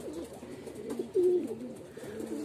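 Racing pigeons arriving at their loft coo in a low, rolling rhythm, several birds close by, with a louder burst of cooing midway and faint ambient noise behind.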